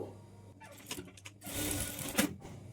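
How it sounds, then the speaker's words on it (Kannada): A sewing machine stitches the back darts of a simple blouse, first in quiet intermittent clicks, then in a brief steady run of stitching before slowing to a stop. "ಡಾಟನ್ನು ಸ್ಟಿಚ್ ಮಾಡಿಕೊಳ್ಬೇಕು"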